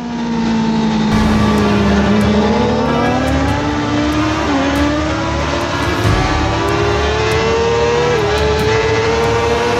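A Honda race car accelerates hard through the Parabolika at the Hockenheimring, its engine note climbing steadily with brief dips at gear changes, loud and close throughout with no talk.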